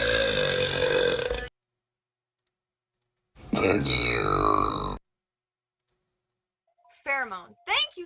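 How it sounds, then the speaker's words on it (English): Loud, drawn-out burps repeated across a live stream, two long belches separated by silence and followed by shorter burping bursts near the end. "Do you like burps?"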